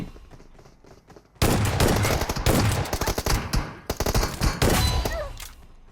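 Shotgun blasts from the mobile battle royale PUBG Mobile, a burst of loud, closely spaced booming shots that starts abruptly after a quiet lead-in and continues in rapid clusters.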